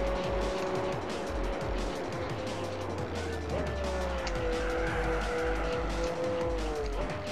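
A race car in Gran Turismo 4 roars steadily at close range, its engine pitch rising and falling through gear changes, with a turbo blow-off hiss as it downshifts under braking.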